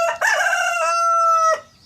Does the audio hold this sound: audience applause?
no